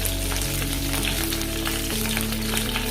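Curry leaves and green chillies dropped into hot coconut oil for a Kerala-style prawn ball curry, giving a steady, close, loud sizzle and crackle with no talk.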